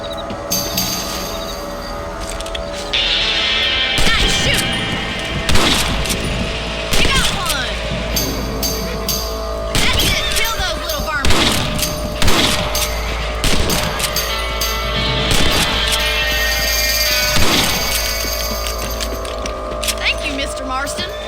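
Rifle gunfire in the Red Dead Redemption video game: loud, sharp shots fired one after another at irregular intervals over a steady outdoor background, with voices talking between and over the shots.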